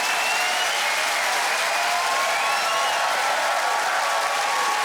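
A studio audience at a comedy show claps after a stand-up set, dense sustained applause filling the room at steady loudness throughout, with no voices rising above it.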